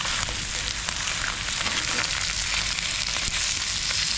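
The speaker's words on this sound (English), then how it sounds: "Fry it on the other side." Queenfish fillets frying in a pan, a loud, dense, continuous sizzle with fine crackling throughout and no talking.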